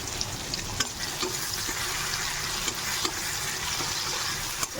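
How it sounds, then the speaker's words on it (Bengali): Ginger and tomato fry in a pan of cumin and dried chilli tempering, giving a dense, continuous sizzle at close range with faint clicks of stirring and no voices. "গোটা জিরে আর শুকনো লঙ্কা ফোড়ন দিয়েছি, এবার আদা আর টমেটোটা দিয়ে দিতে হবে।"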